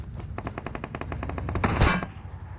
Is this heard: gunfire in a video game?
yes